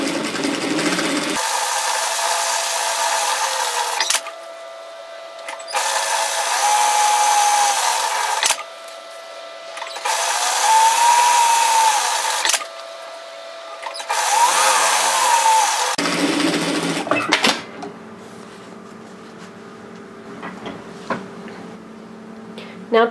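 Sewing machine top-stitching fabric for a mini Boston bag, about 6mm in from the edge, running in several steady whirring bursts split by short pauses, then a quieter stretch of handling noise at the end.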